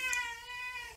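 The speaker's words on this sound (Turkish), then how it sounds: "Sanırım kedi artık yeter diyor galiba, sohbetimizi kıskandı." A single drawn-out cat meow indoors, faint and close, rising then holding steady for about a second with no talking.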